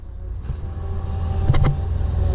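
A 1982 Chevrolet Impala wagon with a 305 engine cruises with a low, steady rumble from inside the cabin, the drone swelling slightly midway, and a couple of brief sharp clicks stand out.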